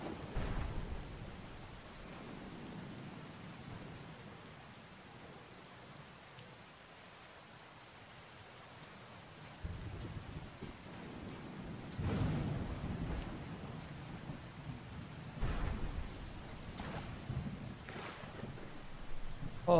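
Steady rain hiss in a fishing video game, with low rumbles of thunder swelling several times in the second half, moderately loud and without talk.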